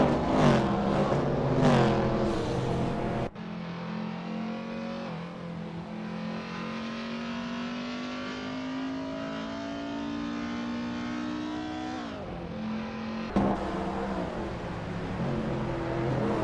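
A 1969 AMC Javelin muscle car engine in a racing game, held at a high steady roar with a slowly rising pitch, framed by sharper revving bursts and gear changes at the start and end.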